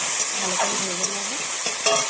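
Vegetables fry in a pan with tomatoes, giving a steady close sizzle broken by scrapes of stirring and a few sharper clinks, with no one speaking.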